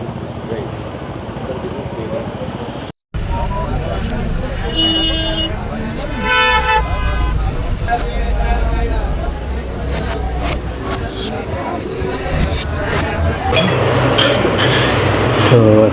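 Busy road traffic on a street in Manali, with engines rumbling and several car horns honking, near and loud, while a person talks over the noise.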